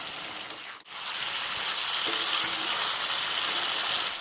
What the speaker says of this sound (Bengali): মশলা করে রাখা যে জলটা ছিল সেটা দিয়ে আমি কষিয়ে নেব